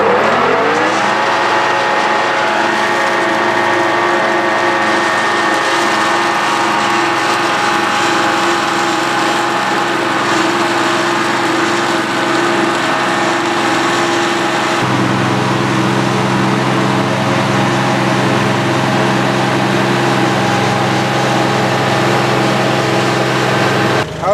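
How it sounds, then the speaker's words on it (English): A mower works slowly through very high grass in a clover food plot, running as a steady, loud engine drone with no break. Partway through, the engine note drops and settles into a lower pitch. "Let's get the mowing up through there. We're going to mow slow because it's really high."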